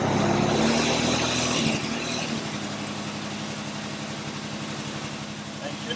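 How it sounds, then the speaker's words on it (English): The 3.4-liter V6 of a 1999 Toyota 4Runner runs under torque load with a steady misfire, giving a loud, continuous engine drone with a rough, pulsing low beat close by. The engine is heard alone for the full length. "It's just a constant, steady misfire."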